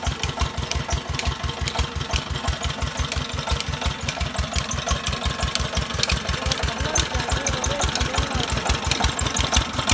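A tractor engine drives a tube well water pump, chugging in a steady, rapid rhythmic knock. It is loud and close, runs continuously throughout, and no one talks over it.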